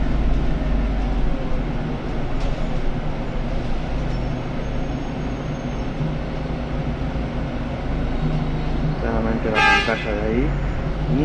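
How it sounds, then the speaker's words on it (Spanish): A loud bus horn honks briefly near the end, rising over steady engine rumble and background chatter inside a moving Marcopolo Torino GT Low Entry city bus. "qué buena bocina que metieron"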